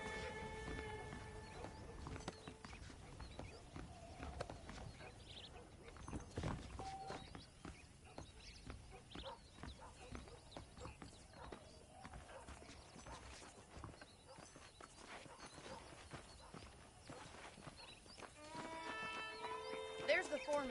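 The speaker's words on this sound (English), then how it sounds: "The horses are saddled up over here." Saddled horses in a video game make faint, scattered hoof clip-clops and an occasional whinny, mostly under talking and game background sound.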